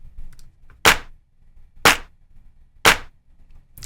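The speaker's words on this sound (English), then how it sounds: "Listen to the variation in those claps." Layered clap samples, three stacked hits offset slightly off the grid, land as four sharp, loud, evenly spaced claps roughly a second apart over a low, quiet hum, with no voices.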